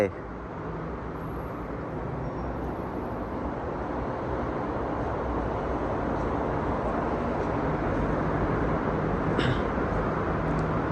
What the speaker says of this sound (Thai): รถไฟจะเข้าจอดชานชาลา ไปกรุงเทพอภิวัตร